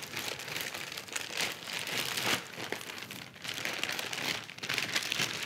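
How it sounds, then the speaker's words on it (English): A turkey's plastic packaging bag crinkles and rustles continuously up close, with uneven bursts of crackling as the bag is handled. "Get the plastic bag that the turkey came in"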